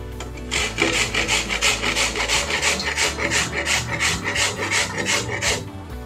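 Farm carrots rasped against a grater for carrot halwa, a quick steady run of scraping strokes, close and alone, each stroke a distinct rough swish.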